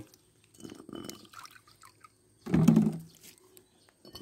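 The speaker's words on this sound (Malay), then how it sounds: "Cara cuci dia Kau boleh cuci pakai air Cuci pakai air" Water splashes and runs over a rusty, oily motorcycle brake part as it is washed, with a few small trickles and drips followed by one louder pouring splash in the middle.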